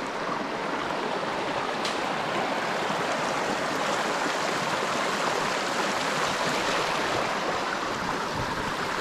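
Steady rushing water of a mountain creek, a full broadband wash flowing continuously and close by with no pauses, at Holly Creek.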